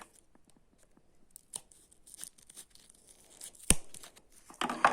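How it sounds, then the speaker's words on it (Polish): Scissors snipping and slicing through plastic card holders, a series of small sharp cuts and crinkles close up, ending in a louder tearing crunch. "moje nożyczki do rozcinania holderów."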